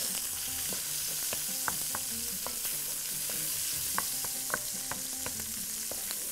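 Onions fry in a pan for Bahraini macaroni, a steady close sizzle broken by small scattered clicks and taps as a spoon stirs them, with no voices.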